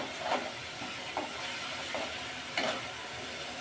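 Bottle gourd curry cooking down in a pan with salt and a splash of water sizzles softly, while a spatula scrapes through it in a few separate strokes, fairly quiet and with no voices.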